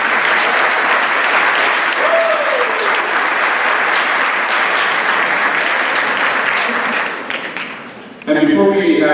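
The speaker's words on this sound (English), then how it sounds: "why don't we all just give ourselves a round of applause for being here tonight" Loud, sustained applause and cheering from a crowd at an evening company celebration event, continuing for several seconds before dropping off as a voice begins speaking over a microphone.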